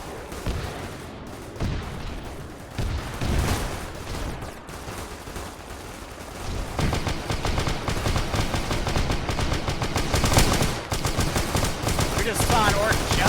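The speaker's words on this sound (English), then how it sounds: "I would assume it's the tank busters shooting at this thing." Dense, rapid automatic gunfire and explosions from tank busters fighting in a Warhammer 40k Arma 3 game rattle on continuously, growing heavier and more sustained in the second half.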